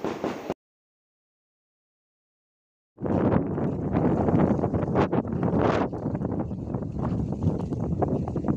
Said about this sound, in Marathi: खूप छान वारा सुटला होता